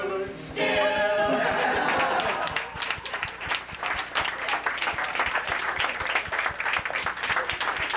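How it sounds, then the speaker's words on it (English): Guests at a 50th birthday celebration clap together after a brief burst of voices, the applause close and lively, settling into a rough rhythmic beat that carries on steadily. "One of us will clap for you, as we love you still."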